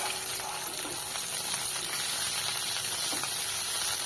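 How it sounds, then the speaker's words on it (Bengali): Taro greens tipped into hot oil with fried garlic give a steady, loud, close sizzling hiss that fills the whole stretch without a break, and no one speaks. "ভাজা হয়ে গেছে, এবার শাকগুলোকে দিয়ে দেবো।"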